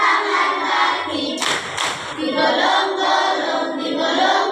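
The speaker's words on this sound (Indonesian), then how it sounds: "Tepuk tangan lagi." Third-grade schoolchildren in a classroom clap their hands again in a couple of brief bursts near the middle, mostly under the steady sound of their voices chanting together.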